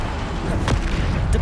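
Bombarda explosion spell in Hogwarts Legacy, a single sharp blast with a crackling burst near the middle, followed by a dull rumbling boom and a faint second hit against steady game background noise.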